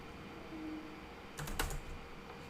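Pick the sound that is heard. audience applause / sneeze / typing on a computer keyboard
typing on a computer keyboard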